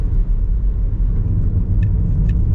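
Car interior drive through Taipa, Macau in the days after Super Typhoon Saola, with a steady low engine and road rumble throughout, close and continuous, with faint high ticks briefly appearing near the end.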